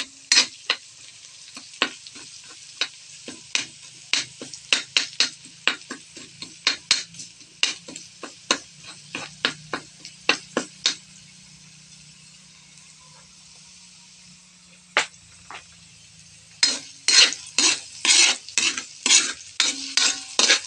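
Lumpia vegetables stirred in a frying pan, a steady run of sharp utensil scrapes and clacks against the pan over a quiet sizzle, pausing briefly midway before a faster burst of stirring at the end.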